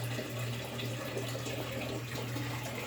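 Water flows gently into a tank in a low, steady trickle and gurgle, faint and continuous with no voices.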